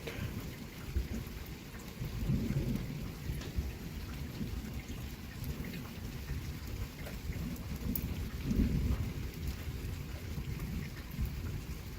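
Heavy rain pours steadily without hail, with low rumbles of thunder rolling through, swelling louder around a couple of moments, no voices.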